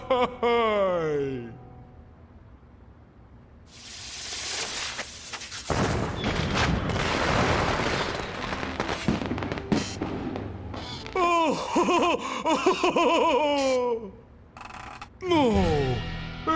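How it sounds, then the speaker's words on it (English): Booming, crackling bursts of fireworks in the Puss in Boots PS3 video game fill the middle stretch, with excited voices talking before and after the display. "fireworks!"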